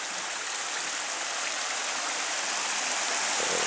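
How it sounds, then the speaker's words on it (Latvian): A small waterfall on a stream beside a grassy islet splashes in a continuous, even hiss of falling water, fairly close and steady throughout. "Tas brīnišķīgs ūdenskritamiņš"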